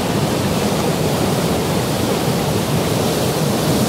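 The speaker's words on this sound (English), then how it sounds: "let's see what happens as the waves come splashing in." Continuous broadband rushing water, loud and steady, like surf washing in without pause.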